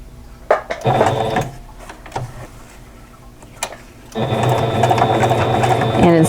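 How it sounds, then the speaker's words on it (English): A sewing machine stitches around a fabric appliqué edged with Angelina fibers in a quilt block, running in two steady bursts with a pause between them, close and loud, while someone talks over it. "I'm stitching along the applique instead of along the edge of the Angelina"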